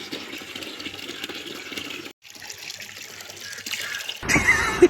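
Water runs and trickles outdoors as a container fills, a steady close splashing flow with a brief break midway, then brighter gushing near the end.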